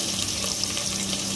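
Dried red chillies and whole spices, including cardamom, fry in hot oil with a steady, close, crackling sizzle and no talking.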